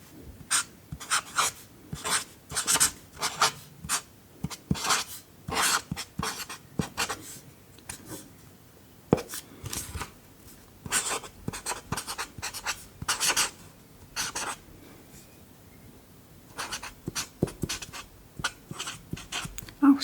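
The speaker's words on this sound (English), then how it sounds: "So let's let's write it down." Pen strokes on paper scratch steadily and close up, forming a long series of quick rhythmic scribbles with short pauses between words, with no voice heard.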